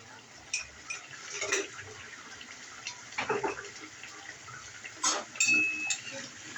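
A spoon scrapes and clinks against a pan while sarputi fish bhuna is stirred and mixed, soft irregular scraping bursts in a quiet kitchen.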